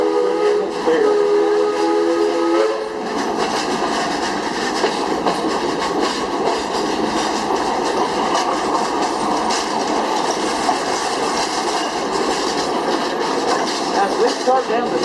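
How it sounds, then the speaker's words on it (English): The Frisco Silver Dollar amusement park steam train runs along its track at Silver Dollar City in Branson, Missouri, opening with a whistle blast and then a steady loud rumble and clatter of wheels. "We start down the steepest part of the train track"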